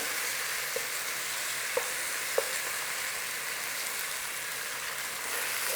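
Corned beef curry with garlic and ginger frying in a pan, a steady close sizzle with a few sharp ticks from stirring, no voices.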